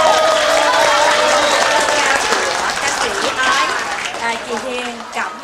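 Audience applause for a band at a temple festival performance, steady clapping from a crowd mixed with a background melody and voices, gradually tapering off.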